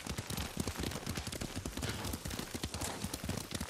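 Horse hooves clip-clop in a quick, steady rhythm while riding through Ghost of Tsushima, loud and close, with a rumbling ground layer beneath the dense hoofbeats.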